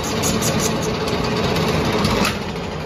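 Lathe back cutting a crankshaft for knife edging, a steady loud machine hum and drone with a slight rattle, close by and without speech.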